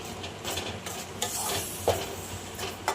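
Mango laddu mixture is stirred in a pan, a spoon scraping and knocking against the metal in a steady rhythm, close by, over a faint sizzle.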